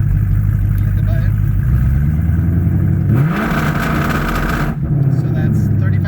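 A car's engine holds a loud, steady buzzing rev against a two-step launch limiter set near 3,500 RPM, then the pitch shifts briefly before settling back; a voice is heard faintly under the engine noise.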